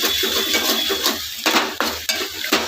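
Tomatoes go into onions frying in a pan, a loud continuous sizzle with scraping and stirring clatter against the metal, no talk.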